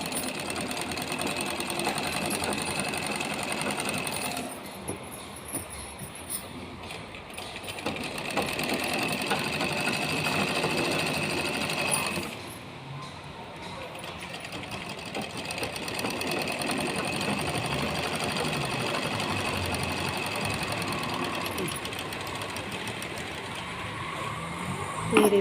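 Sewing machine stitching a round neckline on a dress with lining, a steady close mechanical whirring that runs for long stretches, dipping in two brief pauses, with no talking.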